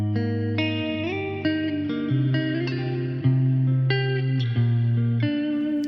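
A clean electric guitar strums a series of chords through a Lumen reverb effect, a soft reverb trailing behind each change, playing steadily without any talking.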